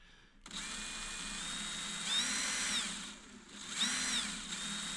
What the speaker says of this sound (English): I told you how fast that fucking drill was going